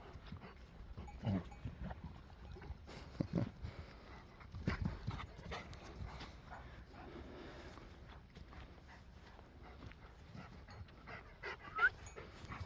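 A female Kangal shepherd dog pants in rhythmic breathy bursts, fairly close but soft, with scattered rustling and faint movement noises around it outdoors on a farm.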